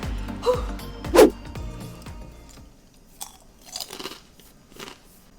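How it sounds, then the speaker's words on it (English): Close, crisp crunching and chewing of a spicy ghost pepper flavored snack, a few loud bites early then softer, quieter chewing toward the end, with no talking. "Has a nice extra crispy crunch to it."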